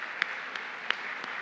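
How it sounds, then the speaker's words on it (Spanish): Faint, distant applause from a luncheon audience, a soft even patter with a few louder individual claps popping out at irregular moments over about a second and a half. "Así que un gran aplauso para las madres profesionales de hoy."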